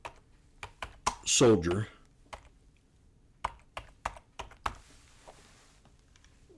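Sparse keystrokes tap on a computer keyboard, a few scattered clicks, then a brief spoken word, then more irregular single taps at a moderate, unhurried pace.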